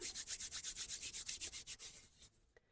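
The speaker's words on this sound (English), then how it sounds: "So I'm just going to rub this oil into this magnet" A magnet rubbed by hand with oil for a folk-magic money spell: about a dozen quick, even rubbing strokes, close and quiet, then slowing and fading at the end with no talk.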